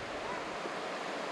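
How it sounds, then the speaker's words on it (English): Shoalhaven River flowing past a bushland campground among pine trees, a steady broadband wash of moving water heard close and continuous with no distinct splashes. "you can hear the river flowing in the background."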